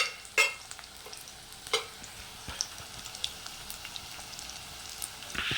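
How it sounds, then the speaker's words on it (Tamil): Onions and curry leaves sauté in a pan for a prawn thokku, giving a steady soft sizzle broken by occasional scraping stirs and taps, with no talking. "வெங்காயம் நல்லா பொன்னிறமாக வர வரைக்கும் நல்லா வதக்கிக்கோங்க"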